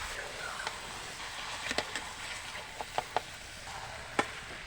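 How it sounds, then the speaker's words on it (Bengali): Chicken pieces go into a pan for yogurt chicken and are stirred, with faint sizzling and a few sharp spoon-on-pan taps, quiet and close. "এবারে মাংসটা এর মধ্যে দিয়ে দিচ্ছি। একটু ভালো করে নাড়াচাড়া করে চাপা দিয়ে দেবো।"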